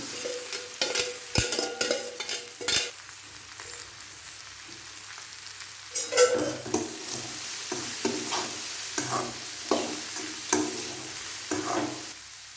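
Boiled moong dal stirred into a spicy tempering with green chillies and curry leaves, with scraping spoon strokes and a steady soft sizzle in the pan, no voices.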